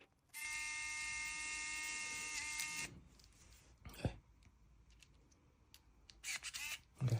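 A small electric screwdriver whirs steadily for a few seconds while driving screws into a SEKI Holy Egg 2.0 during assembly, followed by quiet clicks and brief handling noises of the parts up close.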